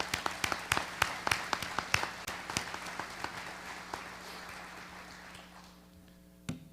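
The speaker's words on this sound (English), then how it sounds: "Let's give our police department in Muncie a round of applause." A sparse audience at a community address applauds the Muncie police department, distinct individual claps in a quick rhythm that thins out and fades over several seconds, ending with one last clap after a brief quiet.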